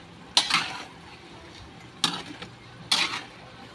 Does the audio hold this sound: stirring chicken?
yes